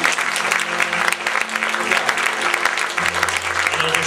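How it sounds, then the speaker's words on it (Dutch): An audience at a folk concert applauds warmly for a flute and tin whistle player, with brisk, dense clapping mixed with a sustained low instrumental tone and some crowd murmur. "Hartelijk applaus voor Luc."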